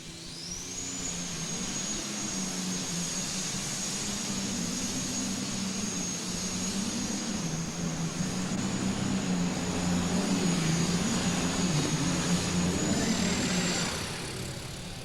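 A John Deere super stock pulling tractor, a 5,500-pound class, roars through a full pull at an indoor farm machinery show, a loud sustained engine drone with a high turbo whine held steady for about thirteen seconds before easing off.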